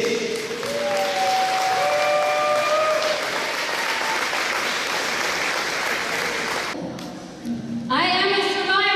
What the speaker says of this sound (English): Help me give a big round of applause to a survivor, a hero, Mrs. Linda Binge.